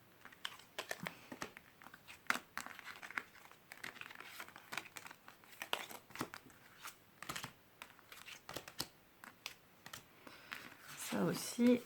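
Tarot cards and papers are gathered and tidied away, with soft crinkling, taps and shuffling handling noises scattered throughout at close range, fairly quiet.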